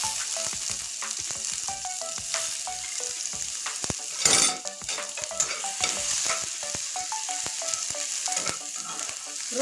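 Crushed garlic sizzles in hot oil with cumin seeds, a bright continuous frying hiss broken by stirring clinks and scrapes of a spoon against the pan, close and fairly loud.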